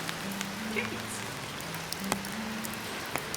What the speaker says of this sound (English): Despite the pouring rain, we made our way to Emanoya Sukawara Shrine.